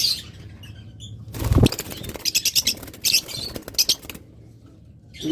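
A pair of locally bred cage birds, offered for sale, flap their wings in a brief loud burst, followed by a run of short, sharp chirps nearby against a quiet background.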